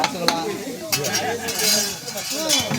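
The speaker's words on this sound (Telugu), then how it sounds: "ధనియాల పొడి, బిర్యానీ గరం మసాలా, బాగా కలియబెట్టాల" Coriander powder and biryani garam masala stirred into a mushroom curry in a pan, with a spoon scraping and clinking against the metal over a light sizzle, while people talk throughout.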